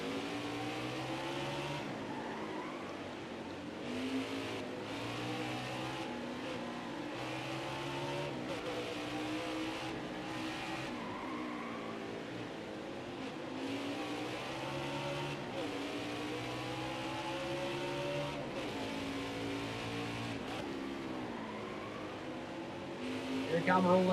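Stock cars race at Mid-Ohio in NASCAR Heat 5, with a steady, layered engine drone and rising and falling revs as cars pass and shift. A commentator talks throughout over the continuous racing noise.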